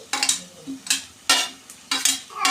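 Spatula stirring through an egg-curry base in a pan, with repeated bursts of scraping and sizzle separated by short pauses, close and fairly loud, with no talking.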